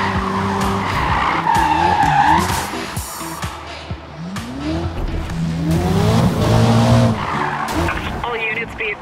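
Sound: car chase with skidding tires in video game Need for Speed Rivals

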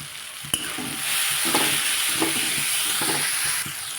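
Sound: onions and tomatoes cooking in a pan

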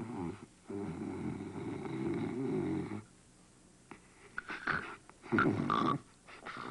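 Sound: snoring

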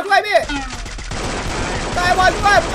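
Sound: gunfire from the video game Free Fire

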